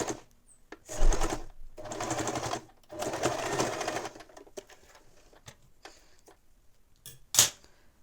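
A sewing machine stitches 5 cm strips of fabric together in short close bursts of rapid mechanical rattling separated by pauses, followed by softer clicks and handling sounds.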